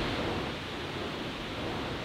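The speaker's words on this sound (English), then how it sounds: "Yes, that's rain." Rain heard from inside a small airplane flying through bad weather, a dense steady hiss that stays constant throughout, with no talk.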